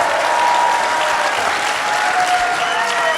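Audience at a convention panel applauding loudly and continuously, a dense, close wash of clapping with some crowd noise throughout.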